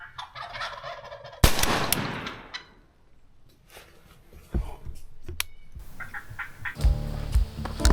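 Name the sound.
wild turkey gobbling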